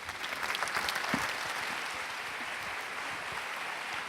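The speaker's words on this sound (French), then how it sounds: "un tonnerre d'applaudissements, s'il vous plaît, pour Éric Orsena" An audience at an anniversary event for a school, ECV, applauds after Erik Orsenna's speech, a dense, continuous wash of clapping heard from some distance and held at an even level throughout.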